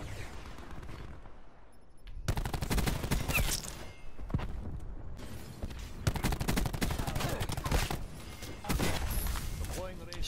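Shotgun fire in a video game, with repeated loud booming blasts in rapid bursts, a pause after the opening moments and then dense volleys to the end, while a player talks throughout.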